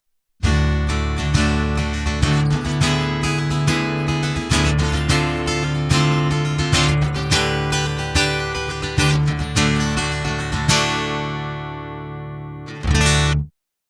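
Acoustic guitar in drop D tuning, a Line 6 Variax Acoustic 700, strummed steadily with a deep low string ringing under the chords, ending in a final chord that rings out.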